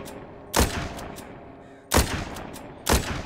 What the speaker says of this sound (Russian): О, критические даже получаются выстрелы.